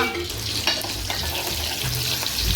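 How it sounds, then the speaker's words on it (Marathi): Chopped onion frying in oil in a pan for a curry, a loud continuous sizzle with stirring scrapes and clinks throughout. "हे बघा कांदा शिजते बघा आता"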